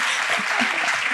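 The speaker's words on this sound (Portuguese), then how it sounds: "Palmas para ela então." Brief burst of audience applause after a volunteer is told to sit down at a live talk, dense steady clapping filling the whole moment, fairly loud with no voices over it.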